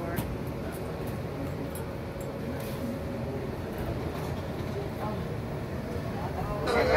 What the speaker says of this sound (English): Riding the train.